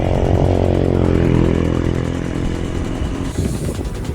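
A motorcycle engine runs loudly and close, a steady throaty roar that eases slightly and then rattles as it idles down.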